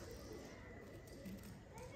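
Faint, soft cooing from Kasur pigeons, low and murmuring against a hushed background. The calls are quiet and somewhat distant.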